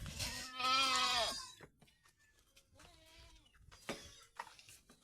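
A newborn kid goat bleats loudly and nearby, a long wavering cry followed by a shorter, softer bleat.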